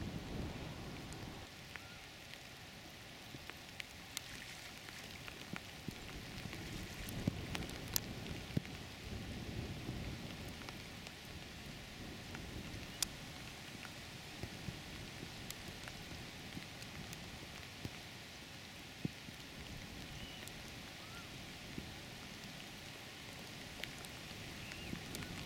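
Heavy rain on the River Swale on a windy, miserable day, a steady faint wash of falling rain with scattered drop ticks and low wind rumble, no voices.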